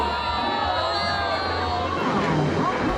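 An air show crowd reacts as F-16 jets fly in formation: a steady, distant hubbub of many voices with faint cheering, backed by a low continuous jet rumble.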